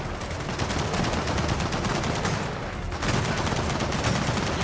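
Enemy automatic gunfire in the video game Gears of War 4 during an Insane co-op campaign, a loud continuous rattle of rapid shots that barely dips for a moment midway, then resumes at full intensity.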